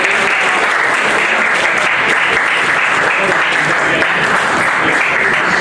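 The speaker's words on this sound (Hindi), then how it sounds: "इन लोगों के लिए जोरदार तालियां एक बार।" An audience at an Orator of the Month award ceremony bursts into loud, dense applause that holds steady and unbroken for several seconds, with no clear pauses.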